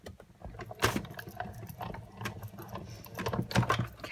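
A Stampin' Up Big Shot die-cutting machine cranked by hand, paper being fed through, giving a quiet, uneven run of ratcheting, gear-like clicks and clunks close by.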